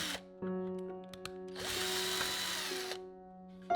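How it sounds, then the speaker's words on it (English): A power drill bores a 5mm hole for an oil suction tube in a small lever-arm part, a steady broadband whine lasting about a second and a half, preceded and followed by quieter tool hum. "Drill a hole about 5mm to create the oil suction tube."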